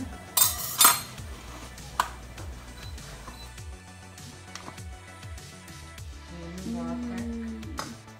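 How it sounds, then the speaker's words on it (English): A metal knife scraping around the inside edge of a pan holding a cooled Black Forest cake, with sharp clinks near the start and soft scraping after, under a low background hum. "your cake is finally cooled down properly so you insert a knife at the side of the pan"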